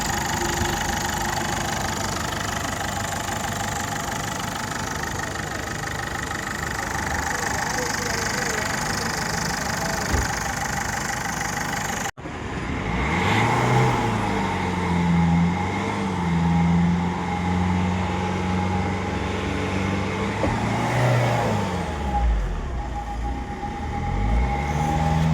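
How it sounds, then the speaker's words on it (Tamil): A Ford Figo car engine idles with a steady, loud mechanical hum, then revs up and down in smooth rising and falling swells, heard close by. "இன்ஜின் சவுண்டு கேட்டு பாருங்கள்."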